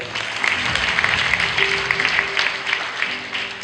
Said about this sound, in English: Give the parents a round of applause.